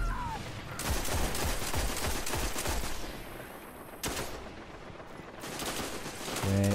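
Dense, rapid gunfire from a close-range Destiny Iron Banner multiplayer match with a scout rifle, sustained volleys crackling loudly across the whole stretch with brief lulls and heavier bursts.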